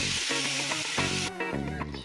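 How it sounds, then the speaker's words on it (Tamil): Chicken pieces and tomato sizzle and fry in a pan for chicken kurma, a steady, loud hiss with some stirring clatter, no voices. "அதில் இப்போ எல்லாமே சேர்ந்து ஒரு 2 நிமிஷம் நல்லா வதங்கட்டும்."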